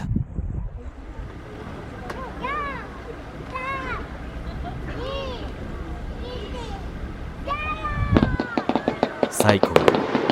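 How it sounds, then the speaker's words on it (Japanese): Fireworks bursting over Lake Sai, hemmed in by mountains to the north and south, with whistling rising shells, scattered booms and a dense crackling volley near the end, each report echoing across the water. "西湖は北は鬼ヶ岳、南は足和田山に挟まれているので、花火のエコーする反響音が特徴的だ"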